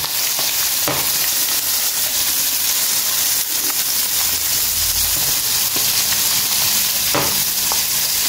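Tadka sizzling with dal in a pan, a loud, continuous frying hiss and crackle heard close up, with a few faint clinks and stirring sounds over the top.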